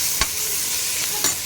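Onions and tomatoes fry in a pan for a chicken dish, a steady loud sizzle broken by two short bursts of stirring, with no talking.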